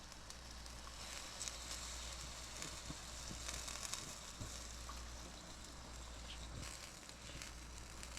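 Onion juice poured onto a hot griddle while cooking White Castle-style burgers gives a steady, faint sizzle with light crackling pops throughout, no voices.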